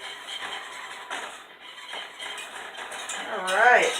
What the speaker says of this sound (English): now I'm going to add my flour mixture to the butter. I'm going to whisk that up really good